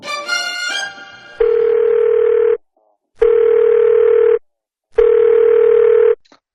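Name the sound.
telephone ringing on an outgoing call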